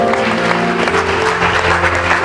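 A church revival congregation in Pekanbaru, Riau, cheers and applauds in a steady, dense wash of clapping and crowd noise, with sustained music tones running underneath.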